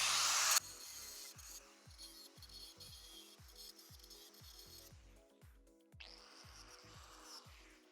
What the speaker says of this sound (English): The only way to get it out is with a small little grinder and inside the joint like this.